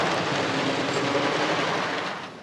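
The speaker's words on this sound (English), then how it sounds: "That right there are the upstop wheels." The El Toro wooden roller coaster train roars over an airtime hill with its upstop wheels rumbling, a dense, loud, continuous rattling roar that fades slightly at the end.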